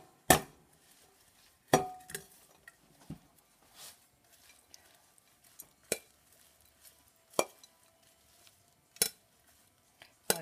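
Kale salad with marinated sun-dried tomatoes and dressing is stirred in a bowl, giving sharp, sparse clinks and knocks of a utensil against the dish, close up with quiet gaps between strikes.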